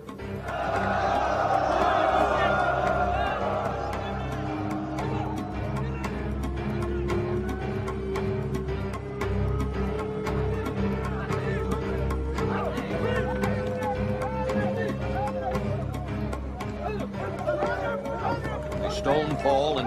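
A dramatized Bible reading of Acts 14 in which an agitated crowd murmurs and stirs in a steady, dense babble that carries on throughout, with a few rising cries over the top and no clear single voice.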